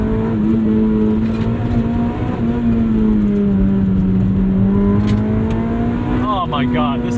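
A 1997 Honda Civic Type R EK9 revs hard on the move, its engine note climbing and falling in a steady, loud drone with faint tire squeal near the end, and a voice speaks over it.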